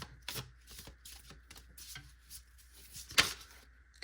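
Tarot oracle cards are shuffled and drawn in a quiet room, a few soft papery flicks and slides with one sharper snap near the end, close and fairly faint.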